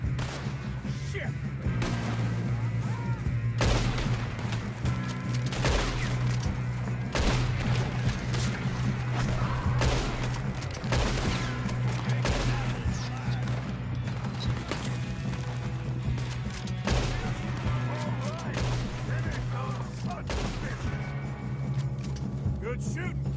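Gunfire from a Red Dead Redemption 2 shootout, with repeated sharp shots and impacts scattered through a dense, busy game soundscape, heard over a constant low hum and under character voices.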